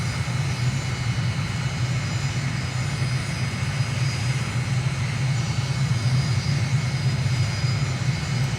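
Steady, loud drone of an aircraft engine throttled back on a landing approach in Microsoft Flight Simulator near Ankara, Turkey, with gear and flaps down, holding an even low rumble throughout.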